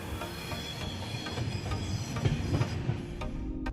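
Goa Express 12779, a passenger train travelling between Madgaon and Belagavi, rumbles along the rails with a steady low roar and rhythmic clickety-clack of wheels over joints, heard close from on board for a few seconds.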